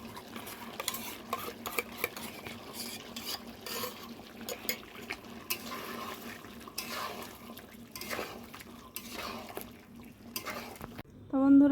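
Cooked mutton with cashew paste is stirred in a pan for mutton biryani, with soft repeated scraping and light clinks of a spoon against the pan, faint and close, while a voice speaks.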